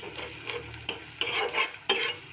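Ground chilli, cumin, coriander and turmeric are stirred into onions frying in a pan, with soft scraping spoon strokes and a steady sizzle heard close up, and no voices.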